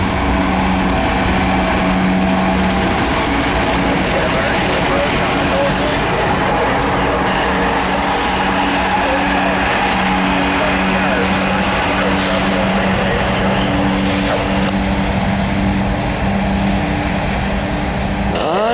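A CSX coal train hauled by ES44 locomotives coasts past with its brakes released at milepost AKL 592, with a pusher at the rear. A loud, steady rumble of wheels and engine runs throughout the clip.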